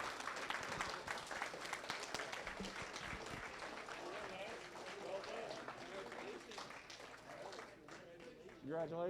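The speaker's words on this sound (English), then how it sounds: "So let's give a round of applause for them" Applause for middle school robotics tournament finalists at a VEX state championship, a steady wash of clapping that holds for several seconds with voices and cheers mixed in.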